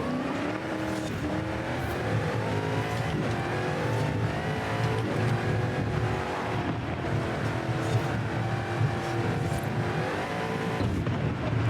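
Loud video game F1-style race car engine revs hard and unbroken, whining up through the gears with brief dips at each shift.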